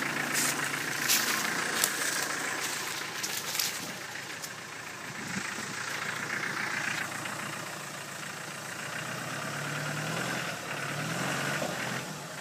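Off-road vehicle engine idling steadily on a rough byway, a continuous mid-range rumble with outdoor noise and a few brief knocks.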